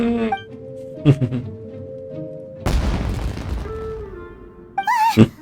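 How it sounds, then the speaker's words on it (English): Fireworks burst in Genshin Impact with a sudden loud boom and a long crackling rumble that fades out, set between tonal game music and effects, with brief voice-like chirps near the end. "It sounded like fireworks."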